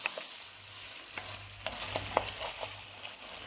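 Chicken pieces fry in a pan for curry tagliatelle, giving a faint, steady sizzle with soft scraping and tapping as the meat is stirred.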